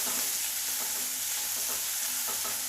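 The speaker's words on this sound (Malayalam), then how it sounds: "ഇനി നമുക്കിതിലേക്ക് ഈ ഉള്ളി ഇട്ട് കൊടുക്കാം. ഉള്ളി നമുക്കൊന്ന് നല്ലപോലെ വഴറ്റിയെടുക്കാം." Small shallots sautéing in a pan for a Palakkad-style mulaku varutha puli, a steady close sizzle with soft stirring scrapes running throughout, no voices.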